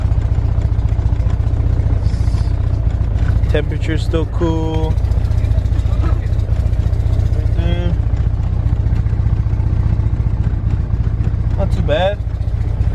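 A turbocharged B20V engine in a Honda Integra, running with no exhaust fitted, idles steadily and loudly throughout, a constant low rumble, while someone talks briefly over it.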